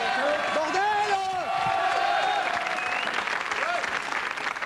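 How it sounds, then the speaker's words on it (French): A studio audience applauds and cheers at a comedy show, dense clapping throughout while voices call out and talk over it. "on peut applaudir"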